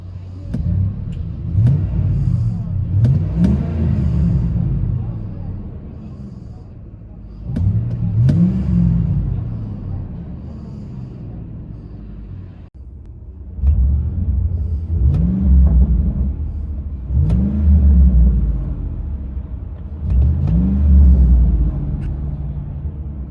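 Muffled Flowmaster exhaust of a Ford F-150 5.4L pickup heard from inside the cab, a deep rumble that rises in several revving surges and settles back between them.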